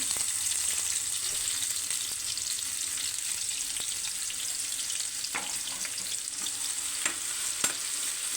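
Onions fry in freshly melted homemade butter for pav bhaji, giving a steady, close sizzle with occasional scraping clicks of a spoon stirring the pan.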